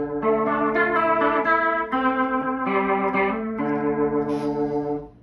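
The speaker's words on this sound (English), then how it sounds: "Then I have the Leslie effect, which I love, sounds great." An electric guitar plays chords and melody through a swirling, wavering Leslie rotary speaker effect, warm and slightly distorted, fading out at the end.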